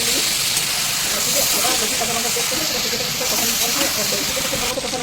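Chicken and vegetables sauté in a pan for a chicken stew, giving a continuous loud, close hiss and sizzle with some faint clattering underneath.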